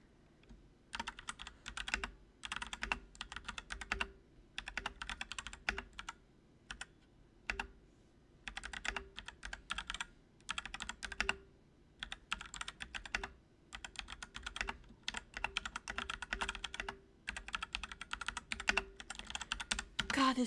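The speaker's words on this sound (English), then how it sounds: "God, this keyboard's loud." Clattering bursts of typing on a loud computer keyboard come in quick runs separated by short pauses, close and crisp throughout.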